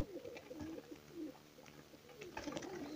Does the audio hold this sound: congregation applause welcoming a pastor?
no